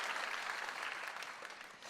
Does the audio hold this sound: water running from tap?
no